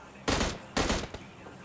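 Two short, loud bursts of automatic gunfire from the PUBG Mobile Lite video game ring out close together, followed by a faint single shot.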